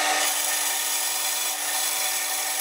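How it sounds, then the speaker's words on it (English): An Axminster bandsaw cuts through wood with a steady, loud, continuous hiss and rasp, unbroken and alone for the full stretch, with no voices. "Here's my new bandsaw,"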